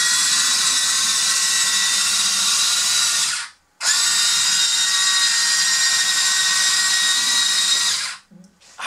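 A Huina 580 all-metal RC excavator runs at full throttle with a loud, steady, high-pitched electric whine. It cuts out briefly once, resumes, then drops away near the end.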